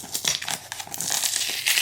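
Packing tape being peeled and torn from a cardboard box, a steady crinkling, ripping rasp with a few sharper snaps, close and fairly loud throughout.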